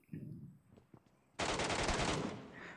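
An MK gun in PUBG Mobile fires a short burst of rapid automatic shots after a few faint clicks, loud and dense for about a second.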